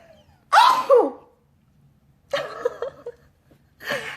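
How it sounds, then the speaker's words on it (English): A person sneezes up close, one sharp explosive burst followed by two further breathy, voiced bursts after pauses, loud against a quiet room. "And there's a sneeze from me to you"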